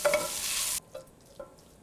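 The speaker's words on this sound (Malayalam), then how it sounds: "പച്ചമുളക്, 2 തണ്ട് കറിവേപ്പില എന്നിവയിട്ട് നന്നായിട്ട് വഴറ്റുക." Onion sautéing with green chillies and curry leaves, a loud burst of hissing frying that cuts off abruptly, followed by two soft scraping stirs in a quieter pan.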